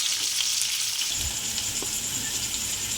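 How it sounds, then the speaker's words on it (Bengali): Onions and green chilies fry in a hot pan, a loud steady sizzle with a brief stir partway through, no voices. "তো পেঁয়াজ দিয়ে দিলাম, এতগুলো কাঁচা লঙ্কা আমরা দিয়ে দিলাম।"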